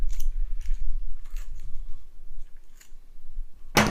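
Scissors snip through tulle fabric wrapped around a pumpkin stem, giving a few soft, separate cuts spaced across a quiet moment, near and faint, with a sharper louder snip at the very end.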